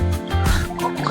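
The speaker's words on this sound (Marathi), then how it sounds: "हे बघा पाणी बारीक जरा आहे, डोंगरातून वरून येतंय पाणी" Mountain spring water trickles and drips down a hillside in a brief, close burst of small splashes and liquid patter.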